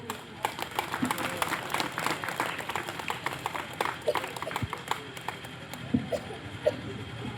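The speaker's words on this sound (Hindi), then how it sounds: "जोरदार तालियों से।" Loud applause from a crowd at a large Hindu gathering in Begusarai as the village sarpanch is honoured, dense clapping sustained for several seconds with voices mixed in.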